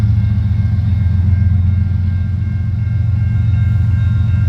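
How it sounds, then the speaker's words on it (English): A CN westbound train passes at night, a steady, loud, low rumble that holds evenly throughout with no horn. "So what do we got for power on this CN westbound train, by the way?"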